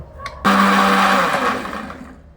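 An electric blender grinds a spice paste with three spoons of yogurt for Hyderabadi paneer. It roars in loudly after a brief quiet start, then whirs continuously before slowly winding down.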